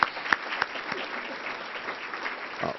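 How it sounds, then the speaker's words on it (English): A forum audience applauds its satire and cartoon panel in a steady wash of clapping lasting about three seconds, with a few sharper claps standing out near the start and a slight swell just before it ends. "Let's give them all a round of applause one more time."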